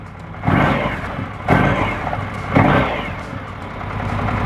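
A 2024 Indian Scout cruiser motorcycle engine revs in sport mode, three loud throttle blips about a second apart, each dropping back toward idle, heard close.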